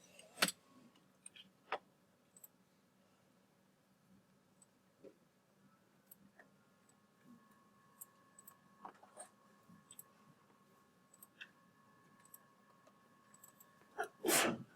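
One sharp sneeze bursts out near the start and another near the end, over a quiet room with scattered faint clicks and taps.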